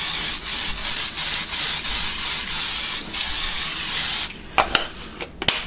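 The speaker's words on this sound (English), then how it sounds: "I'm going to spray my pan with a little baking spray." Several short bursts of baking spray hiss onto a pan in quick succession, followed by a few sharp clicks and taps of the can.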